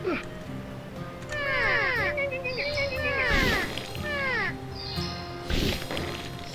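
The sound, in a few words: vultures cawing in Return to Dark Castle video game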